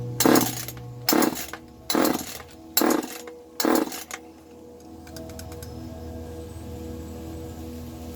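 An Echo CS-303T chainsaw blips its throttle in five sharp, loud bursts about a second apart, then settles into a low idle for the remaining seconds, with no talk.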